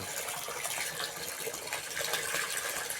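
Water splashes and trickles steadily as it is poured into cow dung being mixed by hand for plastering a courtyard, a soft continuous wet rush without pauses.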